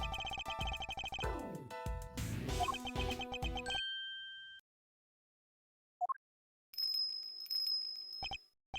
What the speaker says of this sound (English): What's that tinkling sound?